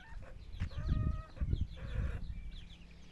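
Several backyard hens cluck and murmur close by in short irregular bursts, with one louder squawk among the softer calls and no talking.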